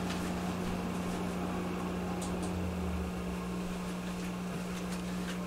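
An electric fan runs steadily nearby, giving a constant hum and airy whir with a strong low tone, during a bridge plate repair.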